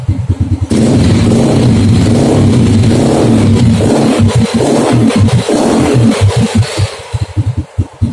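A motorcycle engine revving during a charging system test with a voltmeter on the battery: loud, close, sustained throttle with rising and falling revs and some clatter as it settles.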